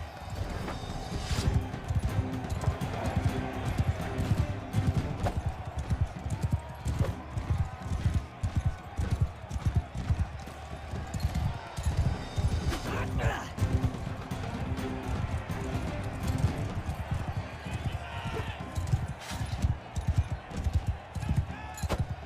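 Horse hooves gallop in a steady, fast clip-clop rhythm through a Bannerlord battle, loud and sustained, with combat noise around them and someone talking over the hoofbeats.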